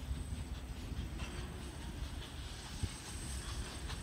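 The steam locomotive Goliath approaches along the Dartmouth Steam Railway line, a faint, distant rumble of wheels on rails with a soft hiss and one brief clank, no voices.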